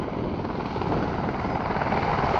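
A military helicopter armed with Hellfire missiles manoeuvring at an air show at RIAT 2014: a steady, loud rotor and engine drone, fairly close and continuous, with no talk.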